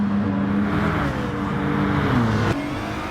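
A Peugeot race car in sim racing at Spa closes in from behind and shoots past with extra speed, its engine whine sweeping in pitch and swelling loud, then dropping as it overtakes, over a steady drone of the player's own car.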